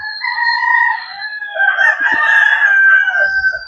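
A talisay gamefowl rooster at a backyard breeder crows in one long, loud, close call, with a brief lower cluck or scuffle partway through.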